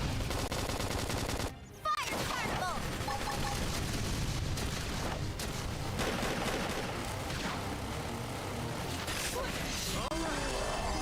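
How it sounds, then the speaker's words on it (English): Flame grenade detonating in the Xenoblade Chronicles X video game, a dense burst of crackling, booming blasts amid continuous loud battle noise and game music, with a speaking voice mixed in. "Flame grenade."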